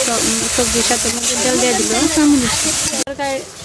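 Vegetables dropped into hot spices (fenugreek, cumin, radhuni) in a pan give a loud, close, bubbling sizzle that holds steady, with a sharp clatter near the end and people talking over it.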